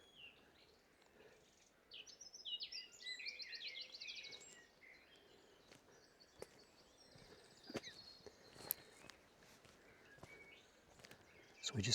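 A wren sings in a small patch of wet copse on the Isle of Wight Undercliff, a bright, rapid trilling burst that stands out clearly over faint outdoor ambience, followed by scattered chirps and clicks.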